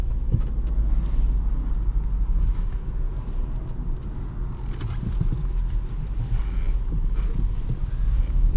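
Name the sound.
Jaguar XF 5.0 V8 car driving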